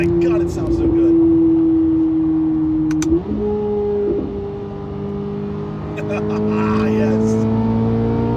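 A Chevrolet Corvette C8 Z06 engine revs hard while accelerating through a gap in traffic, its pitch climbing steadily, dipping at a gear change and rising again, loud and close from inside the car, with a voice briefly over it.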